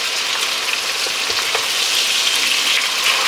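Pork belly sizzles steadily in a frying pan, a close, continuous crackle of hot fat with small pops throughout and no voices.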